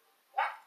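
A dog lets out one short, sharp bark, and a second bark starts right after, both brief and fairly close.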